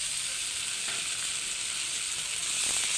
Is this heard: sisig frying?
yes